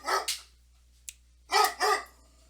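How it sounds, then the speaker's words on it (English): A dog barks close by in two quick pairs, two sharp barks, a brief pause with a faint click, then two more, loud against an otherwise quiet indoor room. "Sorry about the dog there."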